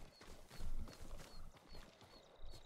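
Horse hooves clip-clopping in the video game Ghost of Tsushima, a steady walking rhythm of soft thuds under a faint outdoor ambience, quiet and unbroken by speech.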